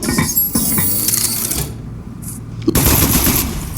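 Aperture Science turret firing in the video game Aperture Desk Job, dense rapid mechanical gunfire bursts that break off briefly with a faint tone, then resume loudly.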